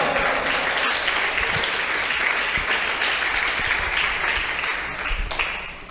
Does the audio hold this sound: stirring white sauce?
no